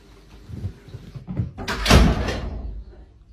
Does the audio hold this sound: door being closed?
yes